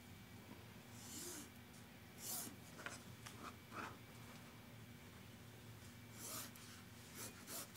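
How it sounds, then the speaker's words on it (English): A pen or marker is drawn corner to corner across the wrong side of a quilting fabric square, giving soft, faint scratchy strokes in several short bursts with quiet pauses between. "We're going to draw on the wrong side of the fabric H's"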